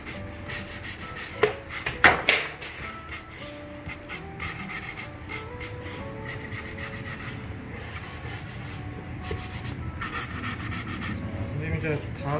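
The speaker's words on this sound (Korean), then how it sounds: "지금 잠깐 사포 좀 쳤는데" Steady rhythmic rasping of sandpaper rubbed back and forth over a wooden tool box, close up, with a couple of sharper knocks early on.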